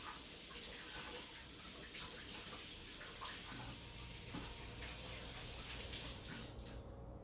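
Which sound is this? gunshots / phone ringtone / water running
water running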